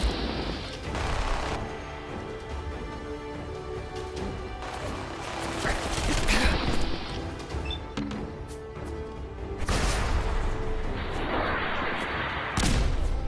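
Enemy missile explosions in Fallout 4, several heavy booming blasts and crashes spread across the scene with rumbling gaps between them, loud and close.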